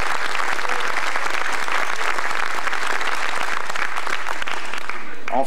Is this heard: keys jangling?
no